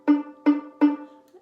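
Three plucks on a violin string with the finger not pressed down firmly, each a short buzzy attack quickly decaying, evenly spaced and close with no talking.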